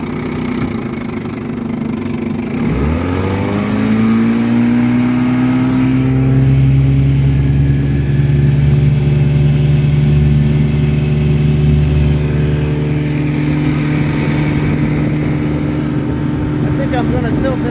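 A 1954 Johnson QD-15 10hp outboard boat motor runs steadily, its engine note rising as it revs up partway through, then holding a loud, close drone with light water and ambient noise around it.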